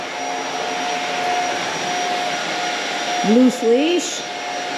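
A vacuum cleaner drones steadily with a constant whine during a bulldog training session, while a person speaks briefly over it near the end.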